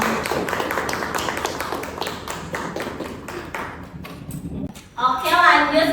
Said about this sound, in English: Give applause for Indra